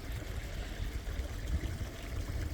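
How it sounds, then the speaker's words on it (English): Small garden waterfall pouring into the main pond of a Chinese-themed water garden, a steady close rushing splash with continuous low churning water noise and no talk. "Another waterfall there. Into the main pool."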